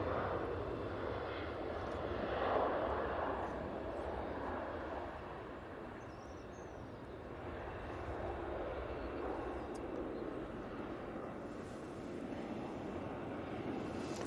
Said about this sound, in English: TUI's on the roll behind it.